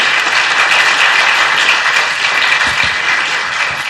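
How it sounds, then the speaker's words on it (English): An audience at a national university debating championship gives a round of applause, dense and loud hand clapping that fills the hall and holds steady throughout before fading slightly at the end. "give a huge round of applause to the team"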